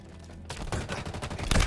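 Rapid automatic gunfire rattles in a Halo multiplayer match, a dense, loud burst of shots starting abruptly and continuing without pause.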